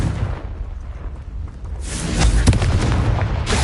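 A Confringo fire spell explodes in Hogwarts Legacy, a muffled low blast that swells into a louder burst with a crackling tail after a quieter lead-in.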